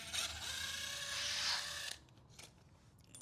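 A 13mm socket ratchet clicks rapidly while backing bolts out of a 2010 Mini Cooper S engine, a close, dense metallic ratcheting burst for about two seconds, then a few faint scattered clicks.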